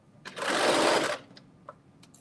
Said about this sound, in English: I've been sewing.